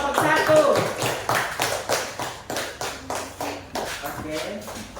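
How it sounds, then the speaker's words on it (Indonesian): Group clapping in a classroom for the first group after their presentation, rhythmic and fairly close, with loud individual claps and voices talking over it. "Tepuk tangan untuk kelompok 1."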